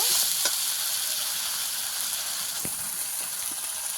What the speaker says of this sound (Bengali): এই পর্যায়ে দিয়ে দেবো বেগুন আর আলুটা বেগুন আলু দিয়ে ভালো করে মিশিয়ে দেব